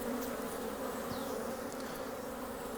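A steady, dense hum of honey bees fills the air around an open hive, with occasional single bees droning past nearby.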